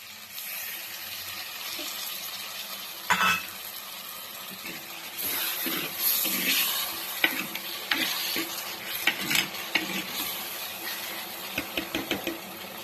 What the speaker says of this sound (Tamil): இப்போ கொஞ்சமாக இதில் நான் புளி தண்ணி சேர்த்த போகிறேன்